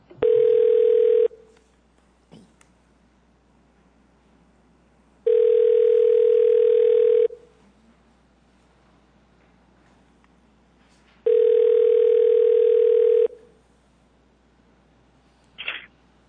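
A telephone ringing over a conference call system at a city public services committee meeting, three long evenly spaced electronic rings, loud and clear, with a faint click between them.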